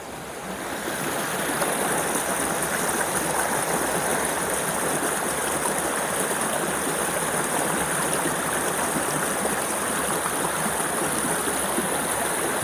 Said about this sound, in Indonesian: Kenceng banget airnya.